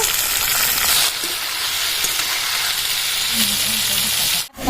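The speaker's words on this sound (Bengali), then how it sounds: "আলু আর বেগুনটা ভালো করে ভেজে নিয়েছি" Potatoes and eggplant fry in a pan after a tempering of cumin and dried red chillies, giving a steady close sizzle and hiss that runs almost the whole time before a brief drop near the end.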